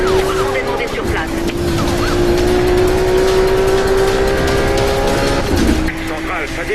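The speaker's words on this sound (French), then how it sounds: "Une voiture poursuit un pilote en excès de vitesse qui a besoin d'aide." A police car chases a speeding racer in Need for Speed: a loud engine roar with tire squeals and rising siren-like wails, sustained and close throughout.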